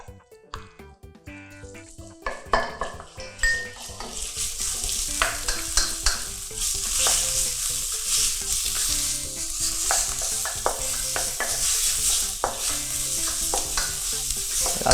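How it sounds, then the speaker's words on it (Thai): Pork stir-fried in a hot oiled wok for Thai egg spring roll filling, sizzling loudly and steadily with repeated scraping and stirring clatters throughout, building after a quieter start. "เราจะผัดหมูให้สุกก่อนนะครับ"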